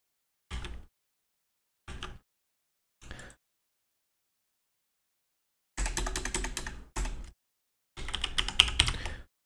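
A computer keyboard tapped in short bursts: three brief isolated clusters of keystrokes, then longer dense runs of clacking separated by silence, close and clear.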